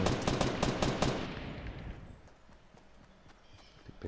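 Rapid bursts of gunfire in the video game Fortnite, a dense volley of close shots for about two seconds that then trails off into quieter distant pops, with no voices.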